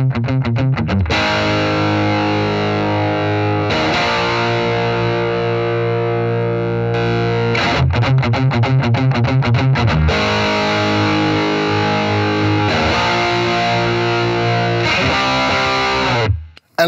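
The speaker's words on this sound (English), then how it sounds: "So I'm gonna play the guitar through the amp alone first, and then I'll kick in the pedal so that you guys can hear the difference." Distorted electric guitar played through an amp alone and then with a boost pedal, loud sustained chords and riffs with a rhythmic chugging section, continuous with no talking.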